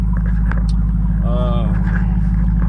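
A supercharged 750-horsepower Jeep Trackhawk idles while warming up, a deep, steady, close rumble that never lets up, with someone talking over it.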